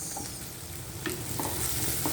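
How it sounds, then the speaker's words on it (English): Brinjals being stir-fried in a claypot for fish head curry, a steady close sizzle with scraping and stirring knocks from the utensil throughout. "And stir fry everything inside."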